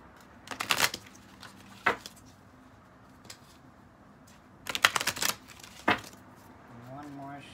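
Tarot cards are shuffled in two quick riffling bursts with a few taps and slaps between them, close and crisp, with a voice beginning at the very end.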